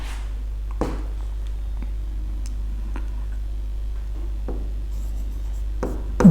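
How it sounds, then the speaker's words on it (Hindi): Pen writing on paper close up during a history lesson, with sparse scratching strokes and soft taps spread out over a steady low electrical hum, no talk. "इसको ब्रैकेट में लिख लेते हैं"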